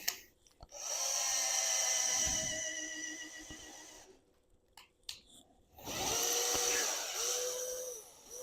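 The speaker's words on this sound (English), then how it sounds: "Tapping for the screws to fit can be done with a cordless drill" A cordless drill tapping screw threads whirs in two sustained bursts with a pause between, steady high motor whine, fairly close, no voices.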